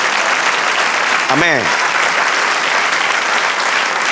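Congregation applause in a Spanish-language church service, dense and loud close-up clapping from many people, briefly overlaid by a single spoken word from a man near the middle.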